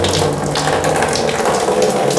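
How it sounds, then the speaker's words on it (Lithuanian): Tap water gushes steadily into a bucket being filled for a bucket shower, a continuous close splashing rush with no voices. "Turiu bucket shower, reikia prisileisti vandens."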